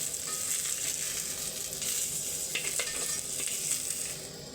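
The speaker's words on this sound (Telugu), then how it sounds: "పచ్చి వాసన పోయినంత సేపు మనము ఇలా వేయించుకోవాలి." Ingredients for a fenugreek-leaf paneer pulao fry in a pan with a continuous, even sizzle, close and fairly loud, with a few faint stirring scrapes and no voices.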